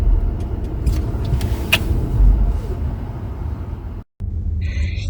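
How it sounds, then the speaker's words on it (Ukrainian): Steady low road rumble and tyre noise from a car driving through Germany, continuous and fairly loud throughout with a brief dropout near the end. "Запрошую вас на автопрогулянку Німеччиною."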